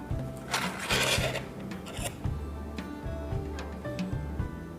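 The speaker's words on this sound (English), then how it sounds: "So I'm going to repeat the process of scraping it off." Dried nail polish being scraped off a phone screen, a close scratchy rasping that repeats in short irregular strokes over a low background hum.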